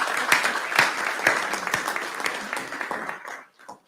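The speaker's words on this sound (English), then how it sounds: "We really should have applause." Audience at a grand court opening ceremony applauding a judge newly appointed to the English Court of Appeal; a crowd claps steadily, then the applause thins out and dies away to a few last claps.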